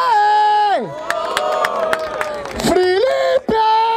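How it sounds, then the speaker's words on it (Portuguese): A live crowd at a rap battle cheers and shouts loudly, with voices rising and falling in whoops while an announcer-style voice calls out over the noise. "Vamos lá, família! Barulho para as rimas do MT"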